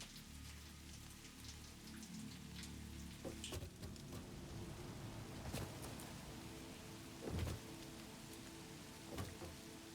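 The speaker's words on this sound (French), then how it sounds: "Et pourquoi il pleut?" Video game rain patters steadily on a surface, with scattered sharper drops and a few low rumbling thuds, quiet and with no voices.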